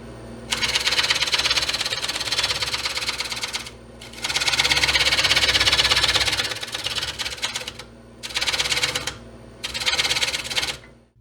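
A lathe rough-turns a cottonwood bowl blank, its tool rounding over the corners. The cutting comes as loud, steady buzzing passes of a few seconds each, with short pauses between them and no talking.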